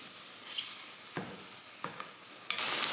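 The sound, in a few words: garlic frying in a pan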